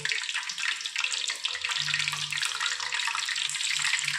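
A lemon fries in ration palm oil, producing a dense, steady crackling hiss throughout, fairly close and loud with no talking.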